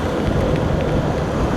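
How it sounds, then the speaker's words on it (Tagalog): Heavy typhoon rain pours steadily as a dense, loud, unbroken wash of noise along a highway, with no talk heard. "Malakas pala yung ulan, hindi pa rin tumitigil."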